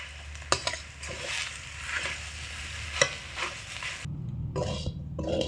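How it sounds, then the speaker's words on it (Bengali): Sattu mixture is stirred and scraped around a pan over medium heat, giving a steady gritty shuffling with a soft sizzle underneath, a few sharper knocks of the spoon, and no talking. "এবার মিডিয়াম আঁচে রেখে ছাতুর এই মাখাটাকে ভালো করে নাড়াচাড়া করে ঝুরো ঝুরো করে নিতে হবে।"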